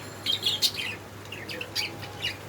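Several small birds chirp and tweet in quick bursts nearby in the morning after overnight rain, over a low steady hum, with no talking.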